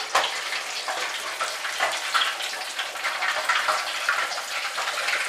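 A deep-fried turkey is lifted from hot oil, followed by a steady, loud splashing rush of oil streaming and draining back into the fryer pot, continuous and close with no voices.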